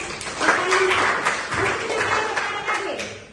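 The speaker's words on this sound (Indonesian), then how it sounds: "Oke, kita berikan aplaus untuk" Classroom applause, a brief burst of clapping from a group of students that swells and then tapers off over about three seconds.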